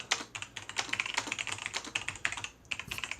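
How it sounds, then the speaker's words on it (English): Rapid typing on a computer keyboard, dense uneven bursts of clicking keys close by, moderately loud with no talking. "Sorry, fast typing."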